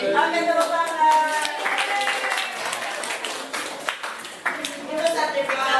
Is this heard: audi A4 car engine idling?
no